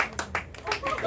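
A small comedy-club crowd at a roast battle gives a brief scattering of claps, a few quick hand strikes with voices murmuring beneath.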